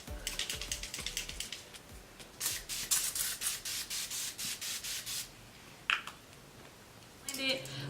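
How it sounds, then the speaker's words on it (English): Evian facial spray misting in a string of short bursts, close and fairly loud, each hiss a broad airy puff with brief gaps, then a final spurt after a pause. "I'll just use the Evian facial sprays today"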